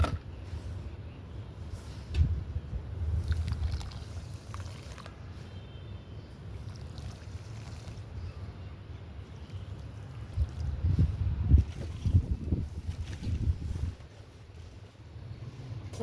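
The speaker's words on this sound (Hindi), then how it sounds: "बहुत ज़्यादा हवा चल रही है" Strong wind blows outdoors on a sunny, sandy spot, rumbling and buffeting against the microphone in a low, continuous roar that swells in gusts toward the later part.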